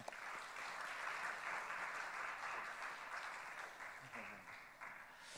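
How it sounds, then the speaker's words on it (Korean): A church youth congregation applauds a pastor in a sustained, fairly quiet burst of clapping that tapers off toward the end, heard from a distance in a large hall. "우리 목사님 힘차게 박수로 맞이하겠습니다"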